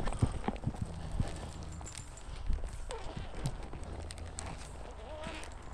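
Horse hooves clop irregularly on the ground nearby, mixed with shuffling and faint background noise.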